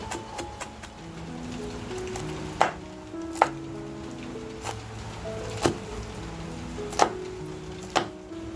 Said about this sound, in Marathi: मिरची जी घेतली आहे ती आपण क्रॉसमध्ये कापून घेणार आहोत.